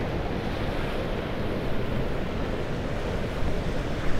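Water roars steadily at the bottom of a dam spillway at a state park lake, a dense broadband rush heard up close and unbroken throughout.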